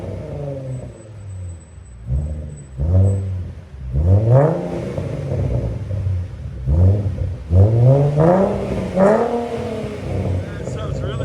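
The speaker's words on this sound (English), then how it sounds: "That sounds really nice. For a V6, that's not bad at all." A 2011 Ford Mustang with a 3.7L V6 and aftermarket resonators revs several times in short, rising blips. The exhaust note is loud and close, with idle rumble between the revs.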